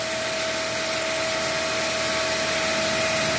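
A 2017 Kia Cerato's air conditioning runs during a freon refill, giving a loud, steady blower-like whoosh with a constant hum and no break or variation.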